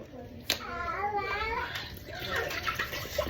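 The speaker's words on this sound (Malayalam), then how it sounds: "ഇതിനകത്ത് ഒരു കുപ്പി വെള്ളം ഒഴിക്കാം" Water pours steadily into a pan, a continuous splashing rush heard close by, with a voice speaking over it.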